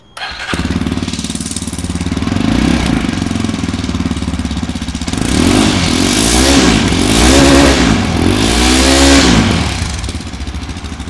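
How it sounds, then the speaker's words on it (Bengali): A Yezdi Adventure motorcycle engine starts and idles close by, then revs hard in several rising bursts before settling back, with no talk over it. "ইজ দি অ্যাডভেঞ্চারের সাউন্ডটা কেমন সেটা একবার আপনারা শুনে নিন"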